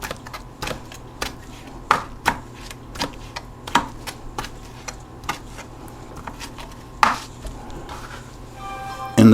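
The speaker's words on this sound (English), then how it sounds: "Give this pepper a rough chop." A knife roughly chopping a pepper strikes a cutting board in a steady run of crisp, close knocks, about one or two per second, with no talk over it.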